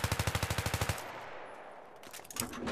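Rapid automatic rifle fire in a tank video game, about a dozen evenly spaced loud shots in a tight burst, then a quieter stretch of ambient rumble with a few scattered clanks near the end.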